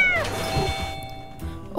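A kitten in a city setting meows once, a high drawn-out cry near the start that fades into quiet game ambience.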